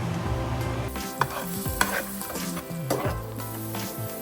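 Halved onions sizzle in hot oil left over from frying onions for chicken mandi, with a spoon scraping and stirring through the pan in irregular clatters over a continuous crackle.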